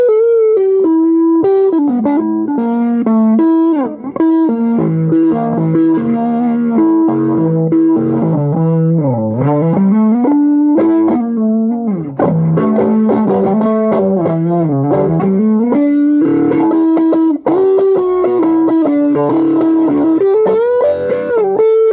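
Electric guitar through a Peavey Classic VTX amp with the pull thick boost engaged, playing a continuous, loud, heavily driven melodic lead with bends and sustained notes, thick and saturated, with no talking over it.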